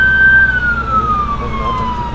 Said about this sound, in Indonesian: Kedengaran siren yang sangat kuat.